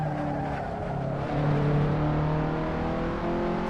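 Race car engine in a racing sim at Sebring, a steady loud engine drone with shifting tones as the car brakes and downshifts, continuous and close with no talk.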